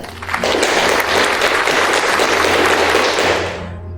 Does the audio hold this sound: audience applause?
yes